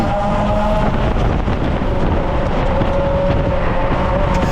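Mazda Miata race car engines roar continuously and steadily at a race start, a dense mechanical drone with wind buffeting, loud and close throughout.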